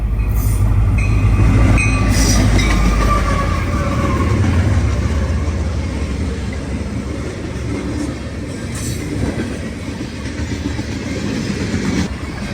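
A CSX freight train with a MAC lead locomotive passes, a loud engine rumble giving way to a long, steady roll of rail cars with rattling wheels and faint squeals.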